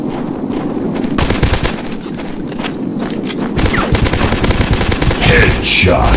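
Rapid bursts of gunfire from the Dinosaurs Hunter video game, loud and continuous, with volleys of shots piling up over a steady rumble for the whole stretch.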